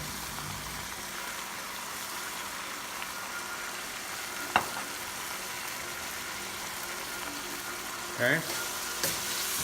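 Vegetables stir-frying with sesame oil in a pan make a steady, close sizzle, broken by one sharp utensil clack midway and a brief spoken word near the end.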